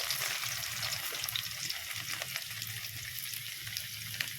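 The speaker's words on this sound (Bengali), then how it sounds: "রসুন কুচি দিয়ে দিচ্ছি আদা কুচি দিয়ে দিচ্ছি" Chopped garlic and ginger sizzle in hot oil in a pan while preparing chicken chowmein, a steady, bright frying hiss running evenly throughout with a few small crackles.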